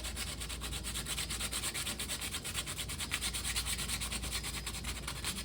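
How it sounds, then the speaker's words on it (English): Light sanding on a wooden puzzle piece, a steady, continuous abrasive rubbing held close and fairly loud, with brisk back-and-forth strokes running through the whole stretch and no voices. "Just a nice little light sanding."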